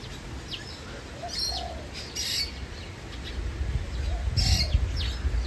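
Faint bird chirps and calls rise over a noisy, breezy background at Auckland Zoo, with brief rustling and visitors' voices murmuring nearby.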